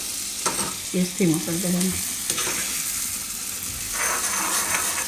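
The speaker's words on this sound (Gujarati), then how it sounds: "થોડીક વાર માખણમાં શેકી લેવાનું આપણે, માખણમાં લસણને" Chopped garlic fries in butter for a cauliflower soup, giving a strong, even sizzle throughout, with someone speaking briefly over it.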